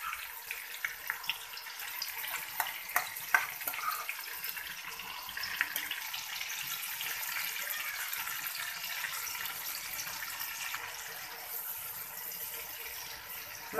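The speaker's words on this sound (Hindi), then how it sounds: "और मसाले को अच्छे से भूनेंगे" Onions with yogurt and spice masala sizzling in a pot for vegetable biryani, a steady hissing fry with small pops and crackles, close and continuous.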